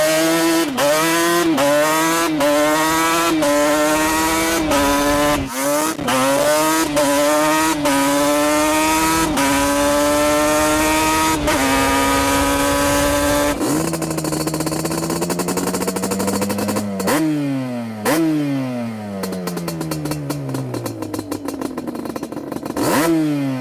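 A Yamaha Banshee fitted with a Big Gun exhaust revs hard and close, a string of sharp throttle blips climbing and falling, then longer rising pulls and a drop back to a rough idle.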